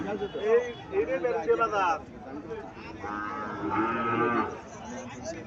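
A Friesian bull calf at a Comilla cattle market lets out two long, loud moos, the first warbling and the second steadier, over a low murmur of market crowd noise.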